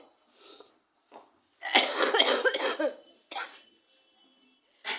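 A person with a cold coughs in a few short bursts, with one longer, harsher fit of coughing in the middle, close and clear against a quiet room.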